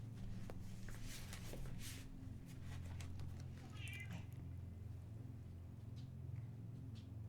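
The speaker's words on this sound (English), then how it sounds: "His little raspy meow." A cat gives a raspy little meow, heard close by over a steady low hum and faint rustling.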